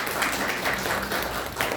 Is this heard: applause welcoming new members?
yes